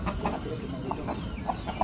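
Parrot-beak chickens from India clucking softly and repeatedly, short scattered calls close by over a steady background hum, with no talking.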